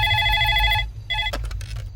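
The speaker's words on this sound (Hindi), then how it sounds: "इस नंबर पर फोन करना है।" A telephone rings with electronic trilling bursts, one long ring then a shorter one, loud and close, followed by a clatter as the handset is picked up.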